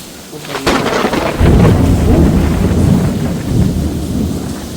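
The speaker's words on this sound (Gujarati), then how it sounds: "બહાર તો વાવાઝોડું છે ને બીક લાગે એવું છે વેધર." A thunderstorm is heard outside during a trip from the USA to Mexico: a sharp crack of thunder breaks, then heavy rain roars and loud rumbling rolls on steadily, with no talking.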